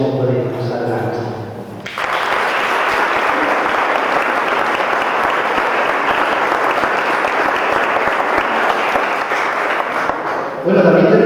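Audience applause at a lecture event, a loud sustained burst of clapping from a crowd lasting about nine seconds, with speech just before and after.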